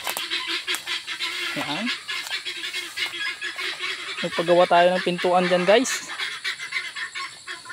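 Ducks and chickens in a backyard pen call out in bursts of nasal, honking quacks and squawks, one short call early and a louder cluster later, while someone talks over them.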